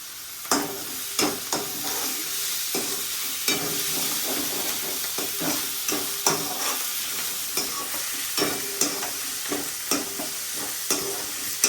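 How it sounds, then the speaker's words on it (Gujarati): Onions with a little salt frying in a pan for palak paneer, a steady hot sizzle broken by regular scraping stirs of a spoon against the pan, close and even throughout. "ડુંગળીને શેકાવા દેવાની, થોડુંક મીઠું નાખી દેવાનું તો જલ્દી શેકાઈ જાય ડુંગળી।"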